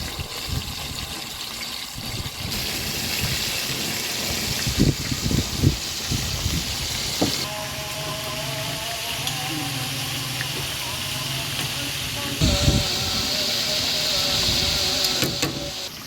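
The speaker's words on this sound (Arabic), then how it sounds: "وعلى الطاسه بعد ما الزيت يسخن معانا تمام،" Chicken wings sizzling in hot oil in a pan for buffalo wings, a steady loud hiss and crackle running throughout with a few brief clatters and bumps in the lower range.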